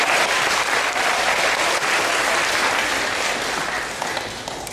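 An audience at an anti-bullying talk claps together in a dense, loud burst that holds steady for several seconds before starting to thin out at the end.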